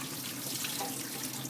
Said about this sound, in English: you just have to drain the water out